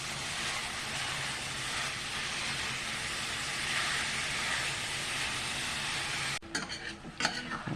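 Crumbled ground beef sizzling as it browns in a skillet, a steady close frying hiss with spoon stirring and scraping, ending in a few clinks and scrapes of the utensil against the pan.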